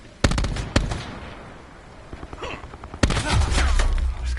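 Gunfire in the shooter Call of Duty Black Ops 4: two sharp nearby shots, a lull with scattered faint reports, then a dense, loud burst of rapid fire with rumbling impacts.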